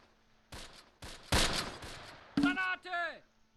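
Infantry gunfire in the wartime video game Close Combat arrives as separate bursts of rifle and machine-gun shots, fairly faint, with a whining tone near the end.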